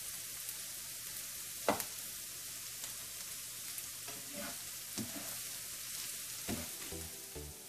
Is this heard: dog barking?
no